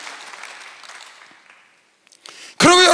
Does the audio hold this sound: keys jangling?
no